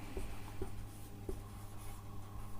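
Pen or chalk writing out chemistry names during an organic chemistry lesson, a steady faint scratching with a few soft taps, heard alone with no talk.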